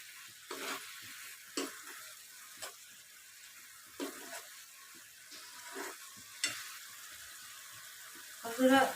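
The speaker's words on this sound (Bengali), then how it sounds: "এই দেখুন, ভালো করে নেড়ে নেবো" Apple chutney frying in a pan with coriander powder, stirred with a spoon in a series of short scraping strokes over a faint sizzle, fairly quiet and close.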